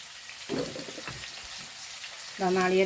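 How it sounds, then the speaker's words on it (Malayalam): Coconut pieces sizzle quietly in coconut oil in a pan with some stirring clatter, and a brief hiss rises louder at the end. "ഞാൻ ലേശം വെളിച്ചെണ്ണ ഒഴിച്ചിട്ട് നാളികേരക്കൊത്തൊന്ന് വറുത്ത് കൊടുക്കട്ടെ"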